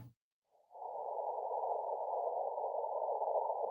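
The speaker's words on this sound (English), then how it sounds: "It started off with like a busy signal" A steady electronic tone like a telephone busy signal, received over ham radio on the 40-meter CW band, starts after a brief click and holds unbroken and loud to the end.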